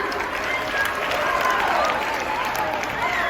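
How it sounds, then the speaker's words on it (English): Steady, dense applause from a school assembly audience fills the whole stretch, with a crowd's murmur blended into the clapping. "So give it a round of applause for them."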